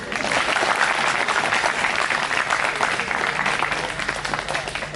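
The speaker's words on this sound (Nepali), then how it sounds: "त्यसमा पनि ताली ठोकिदिउँ न हजुर" An audience claps at a Brahma Kumaris gathering in Hetauda. Dense, steady applause keeps a loud, even wash throughout, with faint voices mixed in.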